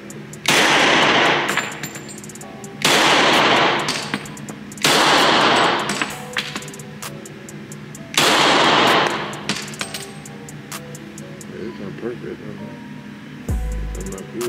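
Gunfire from a newly bought gun outdoors: four loud, close bursts of rapid shots, each several seconds long, separated by brief gaps, with people talking faintly between bursts.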